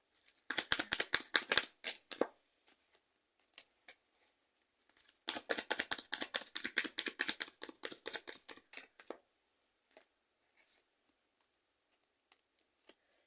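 Tarot cards being shuffled and drawn: two bursts of rapid, crisp riffling and flicking, close and fairly loud, separated by a pause and followed by a few soft, sparse card taps and placements.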